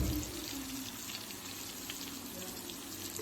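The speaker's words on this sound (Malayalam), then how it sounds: "നമ്മുടെ വരാല് അടിപൊളിയായിട്ട് മൊരിഞ്ഞിരിപ്പുണ്ട്" Pieces of snakehead fish fry in hot oil in a pan, giving a continuous, even sizzle and crackle close by.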